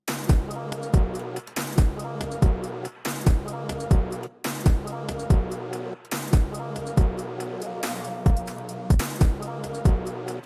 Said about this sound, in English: Put some stereo delay on it.